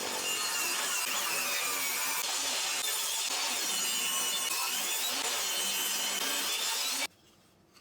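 A piece of wood being sawn into small lure-sized blanks, a steady loud rasping cut that runs unbroken for about seven seconds and then stops abruptly, close up, with no voices.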